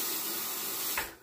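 A tap runs a steady stream of water to wet a Henson safety razor, a continuous close splashing rush that cuts off abruptly at the end.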